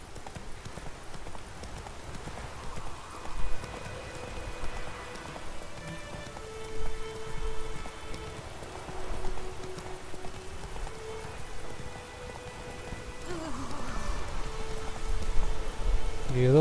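Horse hooves clip-clopping in a steady rhythm through The Witcher 3, under a constant patter of in-game rain, with soft musical tones and faint game sounds in the background.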